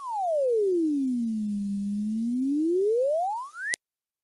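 A smooth electronic tone sonifying a parabola (x squared) sweeps down in pitch, lingers low, then rises back up in a symmetric curve before stopping with a click.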